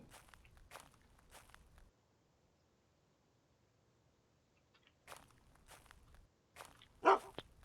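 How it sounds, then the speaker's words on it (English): A dog in the video game UnReal World barks while eating, with a few short, separated barks and crunchy footstep-like thuds, a quiet gap, then more barks and one louder final burst. "That's just an eating bark. That's not an alarm bark."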